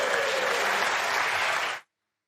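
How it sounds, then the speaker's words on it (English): A close, even round of audience applause at a World Cup of Pool quarter-final between Singapore and Finland, cut off abruptly after under two seconds. "Round of applause for Aryan, everybody."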